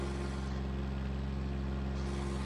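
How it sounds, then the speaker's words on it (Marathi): A loaded tractor's diesel engine runs steadily at night on a rural road, a continuous low droning hum with strong bass tones, sustained and unbroken throughout without pause or variation. "बघू आता इकडे ट्रॅक्टर चढता का."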